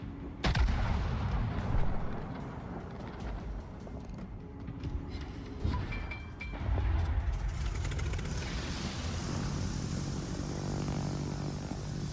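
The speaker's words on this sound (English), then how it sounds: "And is shooting high explosive." A warship firing high explosive shells in World of Warships, heavy booming gunfire in a few loud bursts over a continuous low rumble of engine and ambient battle noise.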